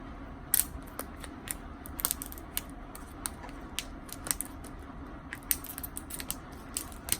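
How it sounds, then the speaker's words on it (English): Plastic wrap being peeled off an Apple Pencil: faint crinkling with sharp irregular crackles and ticks scattered across a quiet indoor background, close to the ear, no voices. "Removing the plastic on the Apple Pencil, not satisfying."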